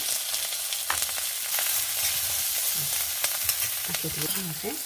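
Onions frying in virgin coconut oil in a pan, with a close, steady sizzle and crackle and a few sharper pops and stirring scrapes, and no one talking.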